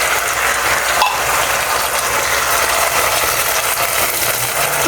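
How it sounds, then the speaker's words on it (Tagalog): Sardines sautéing with onion and garlic in a pan, a dense, steady hiss and crackle of frying, loud and close, with a brief clink of utensils about a second in and no talk. "Igisa siya natin ng maigi mga lodi. Haluin."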